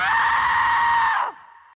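A girl screams, one loud, sustained, high-pitched shriek held steadily close up before it cuts off abruptly into a short fading echo.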